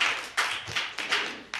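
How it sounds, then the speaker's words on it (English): A few scattered hand claps ring out in short bursts, sparse and fairly faint, like a small group clapping briefly at a press conference. "You can clap for that."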